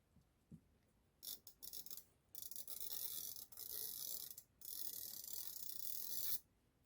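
A chalk-filled wheel marking tool rolls along the edge of a sewing pattern, giving quiet, dry, ratchet-like ticking in several bursts separated by short pauses.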